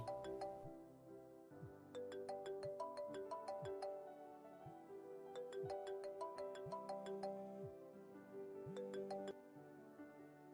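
Phone ringtone playing a repeating melodic chime pattern over about ten seconds, clear and steady with no talking.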